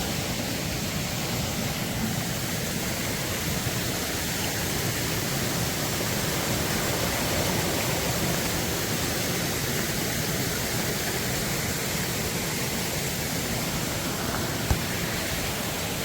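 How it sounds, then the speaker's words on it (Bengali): Waterfall at Belpahari in Bengal, heard from close by as a loud, steady rushing roar of falling water that never changes, with no voices over it. "ঝর্ণার আওয়াজ পাচ্ছ"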